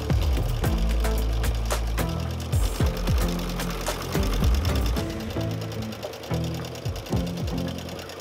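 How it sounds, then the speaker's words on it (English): A sewing machine free-motion stitches over a quilt seam in rapid, uneven bursts, speeding up and slowing down, mechanical and close with a clattering rhythm. "I'm going to head to the sewing machine and free motion over that seam"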